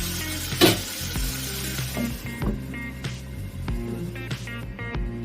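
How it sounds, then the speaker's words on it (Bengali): Chopped tomato fries with okra in a pan, a steady sizzle broken by several sharp scrapes and clanks of a spoon stirring against the metal. "তারপর টমেটো কুচিটা দিয়ে দিলাম। নাড়াচাড়া করে একটু ঢাকা দিয়ে দেবো।"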